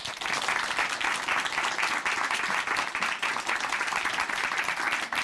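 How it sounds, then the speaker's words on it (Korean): Enthusiastic audience applause at a church gathering, dense and steady, with many hands clapping continuously throughout at a fairly loud level. "박수로 모시겠습니다"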